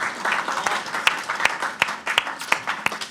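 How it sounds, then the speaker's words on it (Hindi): Audience at a Hindi comic poetry gathering clapping, a loose, uneven patter of hands from a modest crowd with several sharp individual claps standing out, rising and falling in bursts. "तो एक बार जरा तालियां बजा दीजिए।"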